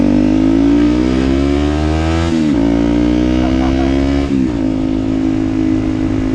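Cross kart powered by a twin-supercharged Honda CBR600RR motorcycle engine, droning loud and close with a steady high whine, briefly dipping twice as the throttle lifts and then surging again.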